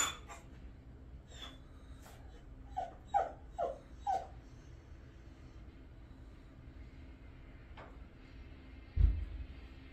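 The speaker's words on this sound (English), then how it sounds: "This seems really tense for the dog." A dog in a film scene gives a few faint, high whimpers in quick succession over a quiet background rumble, followed by a soft thump, with no talking.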